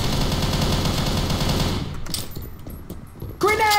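Rapid video game gunfire from a weapon with unlimited ammo, loud and dense for about two seconds, then scattered shots and effects, ending in a sharp burst with a brief voice.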